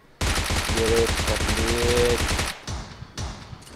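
A PUBG gun fires in a dense burst of rapid automatic shots, loud and close, then a few shorter bursts follow after a brief pause.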